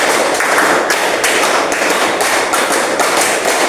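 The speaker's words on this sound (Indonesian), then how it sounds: "tepuk 2, tepuk 3, tepuk 4, tepuk 5, tepuk 5 3 kali" Classroom of students clapping a counted pattern, a rapid run of loud, close hand claps in repeated bursts with short gaps, with no talking.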